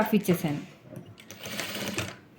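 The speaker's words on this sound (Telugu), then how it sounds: "ఇలా స్టిచ్ చేసుకుంటూ పాదం నుంచి డిఫరెన్స్ తోటి ఇలా నీట్గా కుట్టుకుంటూ వెళ్ళిపోవాలి" A sewing machine stitches piping onto a blouse in short close bursts of rapid mechanical whirring, with someone talking over it.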